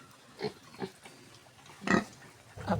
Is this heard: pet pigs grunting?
yes